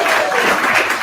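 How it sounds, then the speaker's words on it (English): Audience applauding for a speaker named Frank at a live event, a brief loud wash of dense clapping from a crowd. "Another round of applause for Frank"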